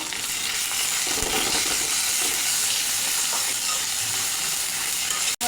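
Ginger-garlic paste and cumin paste sizzle in hot oil with fried onions while a chicken curry is cooked, a steady close frying hiss throughout with a brief clatter near the end.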